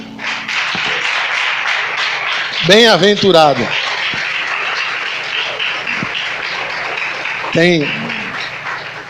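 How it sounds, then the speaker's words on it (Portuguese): A church congregation claps along during a Portuguese-language worship service, a steady dense patter of hands under a voice that speaks briefly a couple of times. "louve o Senhor com as palmas"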